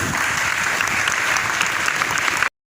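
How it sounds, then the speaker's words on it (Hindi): An audience at a school dyslexia awareness program claps in a dense, loud burst of applause lasting a couple of seconds and then stopping abruptly. "इनके लिए तालियां होनी चाहिए।"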